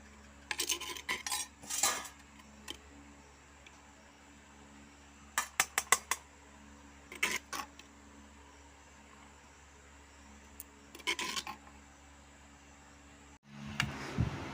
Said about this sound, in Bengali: তা আমি একটু মাংসটা নাড়াচাড়া করে দিচ্ছি